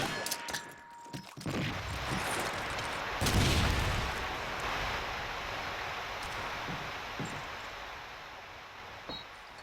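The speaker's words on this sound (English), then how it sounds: "All these nades coming in" Grenade explosions in Call of Duty 2 on the Dawnville map, a dense roar of blasts and debris with a sharp crack early on and a sustained noisy wash of battlefield rumble throughout.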